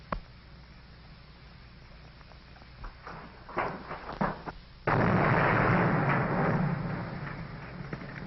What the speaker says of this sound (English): Main tunnel's blown up.